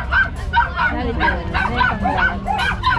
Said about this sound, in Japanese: ちっちゃいワンゴロがいっぱいいるよ。